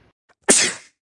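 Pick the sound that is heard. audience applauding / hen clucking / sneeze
sneeze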